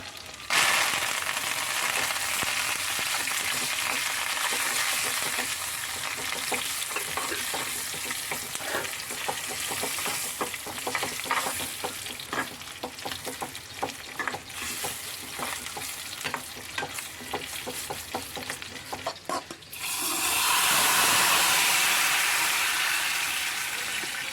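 Curry leaves crackle and sizzle in hot oil for a roasted-coconut mango curry, with stirring scrapes throughout and a louder, hissing burst of frying near the end.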